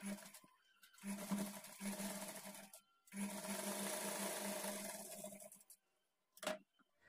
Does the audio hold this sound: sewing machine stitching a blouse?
yes